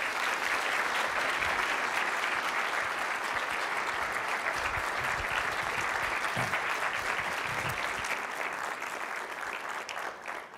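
Audience applause welcoming a professor onto the stage for an ethics lecture, a steady dense clapping from a large crowd that holds throughout and begins to thin toward the end.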